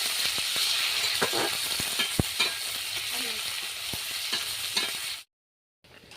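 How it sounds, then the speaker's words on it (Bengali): Chopped onion and bay leaf fry in hot oil with a close, steady sizzle and scattered clicks from stirring, then the sound cuts to silence near the end. "তেলটা গরম হয়ে গেছে ওর মধ্যে দিয়ে দিচ্ছি কোচানো পেঁয়াজ আর তেজপাতা পেঁয়াজটাকে আমি লাল লালভাবে ভাজতে থাকবো"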